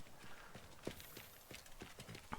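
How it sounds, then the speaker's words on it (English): Horse hooves clip-clop in the Teardown video game, a quick, light series of rhythmic hoof taps, fairly faint, with no talking. "This is the horse that we're going to steal for our inside the saloon"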